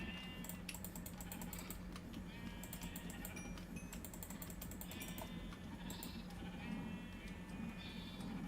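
Sheep bleat in the Minecraft video game, several short wavering calls spread through the clip over a steady background of rapid computer keyboard clicking.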